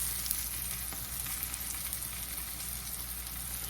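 Mushrooms fry in a pan with only a little grease, giving a steady, close sizzle with faint stirring scrapes and no voices.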